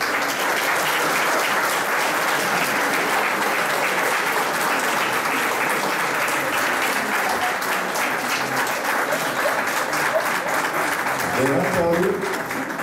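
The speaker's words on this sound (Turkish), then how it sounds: "Hepinizden çok büyük bir alkış rica ediyorum." An audience at a Circassian association's season-opening event breaks into sustained, loud applause, dense clapping running continuously for over ten seconds before tapering as voices emerge at the end.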